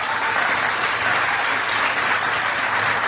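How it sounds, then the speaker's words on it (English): A large audience applauds steadily for skilled craftsmen and women at a Frame USA factory event, the dense clapping loud and continuous throughout without a break. "How about a big round of applause for all the skilled craftsmen and women who make Frame USA such"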